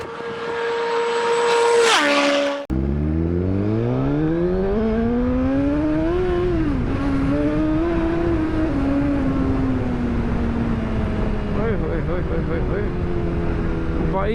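A Suzuki GSX-R 1000R motorcycle revs, then pulls away and accelerates hard through the gears, its engine note climbing and holding steady and loud close by.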